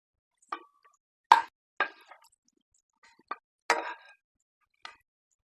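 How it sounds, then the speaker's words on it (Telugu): Fried green chillies drop into a bowl as a handful of sparse, soft plops and light clinks, spaced irregularly with quiet gaps between them. There is no talking. "ఇప్పుడు వేయించుకున్న గ్రీన్ చిల్లీని ఒక బౌల్లో తీసేసుకోవాలి"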